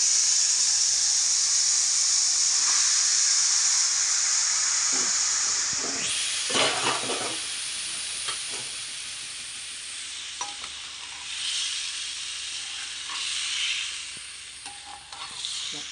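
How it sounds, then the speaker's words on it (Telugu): Raw chicken tipped into a hot pan for chicken biryani, breaking into a loud sharp sizzle that settles into steady frying hiss with scattered stirring scrapes, close up and without talk. "దానిలో ఈ చికెన్ అంతా వేసేద్దాం."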